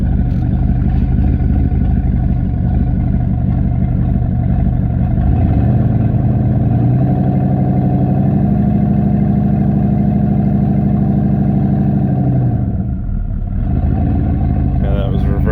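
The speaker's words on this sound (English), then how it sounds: "Let's do reverse burnouts." A car with a Holley Terminator X Max setup and a rebuilt 4L80E transmission does a reverse burnout, its engine roaring loud and sustained, climbing to a steady high rev before dropping off near the end.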